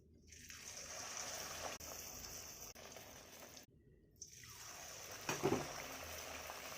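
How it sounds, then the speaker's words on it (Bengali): Luchi, puffed flatbread, deep-frying one by one in hot oil, giving a steady broad hiss and bubbling that drops out briefly twice, then swells louder near the end with a few sharper crackles. "লুচিগুলো একে একে ভেজে নেব সব।"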